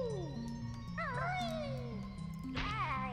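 Cat-like pained meowing from the game Banjo-Kazooie: two wavering, high creature cries rise and fall over a steady game music backing, close and fairly loud.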